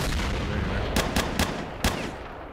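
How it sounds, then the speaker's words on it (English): Four sharp gunshots crack out in S.T.A.L.K.E.R., spaced unevenly over the second half against a steady, noisy game ambience, with the last shot set slightly apart from the first three. "I don't know who's shooting that."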